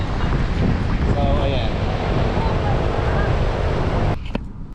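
Gusty wind rumbles loudly against the microphone, with faint voices underneath, then drops off abruptly just before the end.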